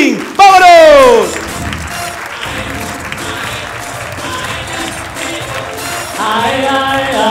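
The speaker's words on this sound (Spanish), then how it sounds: "Recibamos con un fuerte aplauso al gran Juanito Pantín" Live audience at a comedy show in the César Manrique cultural centre applauding to welcome a performer on stage, a broad sustained wash of clapping and cheering after a brief loud shout at the start.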